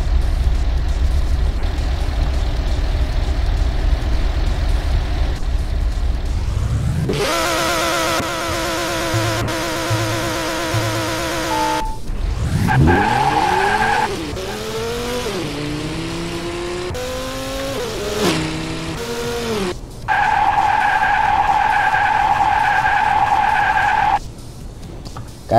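A drag car in the racing game Drag Battle launches without nitrous, its engine revving hard through rising gear shifts with loud tire squeal and skidding, then settling into a steady high idle drone.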